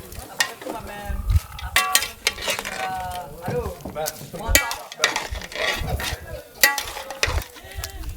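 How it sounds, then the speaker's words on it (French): Pork caramel with star anise and cloves stirred in a pan: repeated scraping and clattering strokes over a low sizzle, with a person talking now and then. "Et là nous mélangeons tout."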